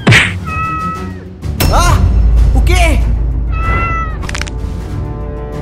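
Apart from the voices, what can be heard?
cat yowling after being hit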